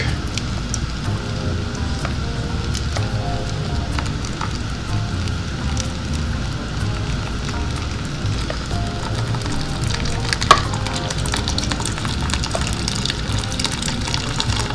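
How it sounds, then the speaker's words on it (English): Watermelon juice, from a drink blended with papaya and Swiss chard, pours steadily through a strainer as a continuous close liquid rush that lasts throughout, with no talk. "So if you pour it through a strainer, trying to make not a giant mess, you can get a little bit more liquid into your drink."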